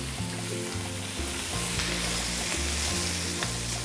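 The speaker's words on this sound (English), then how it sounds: "So here I'm going to put some oil, coconut oil. I'm going to put the fish." Fish frying in hot coconut oil in a pan, a loud, steady, dense sizzle and crackle running without a break, with no talk over it.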